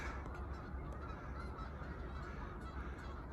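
A flock of Canada geese in a snowy field honks continuously in the distance, a dense overlapping chorus of calls with no voices.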